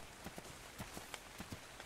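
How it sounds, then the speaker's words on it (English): Rain falling at night in ARK: Survival Evolved, a soft steady patter of scattered drops with a few brighter taps, faint and alone with no talk. "it's like night and it's raining"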